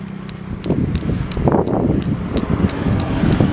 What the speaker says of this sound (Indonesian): Ini cuaca agak berangin.